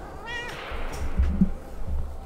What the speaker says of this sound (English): That's my colleague commentator, Dora the Egyptian cat. You may hear her from time to time